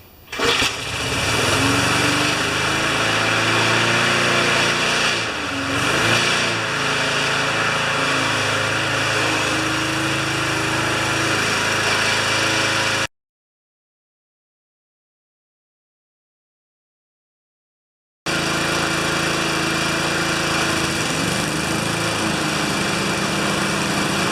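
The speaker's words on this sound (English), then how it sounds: "so now turn it on, 3/4 throttle. It should just start." An older twin-cylinder Briggs & Stratton lawn mower engine starting and then running at three-quarter throttle, a loud steady drone that cuts off abruptly partway through and then resumes at the same level.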